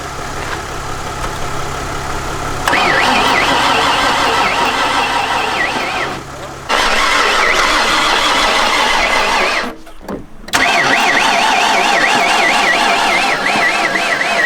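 A van with a dead battery, boosted with a battery booster on the Dempster Highway, cranks in long, strained, whining bursts with brief pauses between attempts. The engine never catches, and the noise is loud and close.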